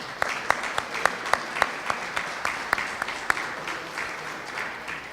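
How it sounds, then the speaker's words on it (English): A small crowd at a press conference for an economic development loan fund kickoff claps steadily, individual hand claps standing out crisply before thinning toward the end, with no talk over it. "So round of applause there."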